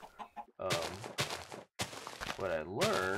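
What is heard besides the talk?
chicken clucking in the video game Minecraft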